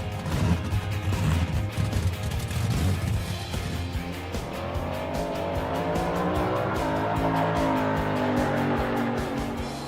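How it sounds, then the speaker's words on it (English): Pontiac Firebird drag car at the drag strip spinning its tires in a burnout, engine roaring loud and sustained with screeching tire squeal rising over ten seconds, close by. "All right, we did a burnout, that's good."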